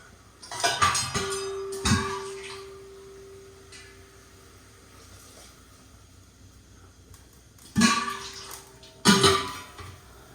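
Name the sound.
water being added to tomato puree in a cooking pot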